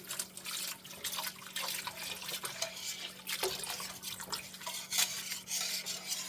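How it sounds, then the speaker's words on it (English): Milk being poured and whisked into a pot of gnocchi soup: liquid splashing and rapid whisk scrapes against the pot, with clinks of utensil on metal over a low steady hum, close and busy, no talking. "Now I've got a quart of milk here. I'm going to go ahead and whisk it in."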